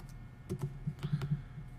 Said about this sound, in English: Bad typing day.